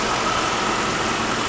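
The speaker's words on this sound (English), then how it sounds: "Supercharged engine, 400 horsepower." Supercharged 400-horsepower Jaguar Super V8 engine running at a steady idle, a continuous close, loud mid-range hum with constant rumble and no voices.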